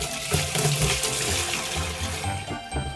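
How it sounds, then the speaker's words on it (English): Water gushes and splashes steadily as it is poured out of the water tub of a Gemini Taurus 3 ring saw, a close, continuous rushing and sloshing with no talking. "Remove about half of the water from the water tub."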